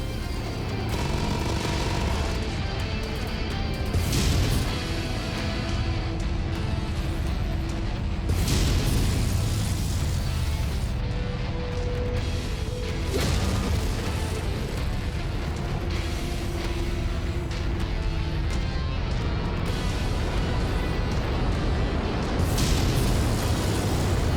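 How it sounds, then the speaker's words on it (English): Incoming missiles explode in heavy booms in the video game MechWarrior, several loud blasts spaced a few seconds apart over a dense rumbling mechanical battle din. "Incoming missile."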